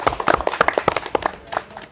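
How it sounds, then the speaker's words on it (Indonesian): A small group claps briefly for Banyuwangi karate athletes, irregular close handclaps lasting about two seconds, with a faint voice underneath. "Tepuk tangan dong buat atlet Banyuwangi."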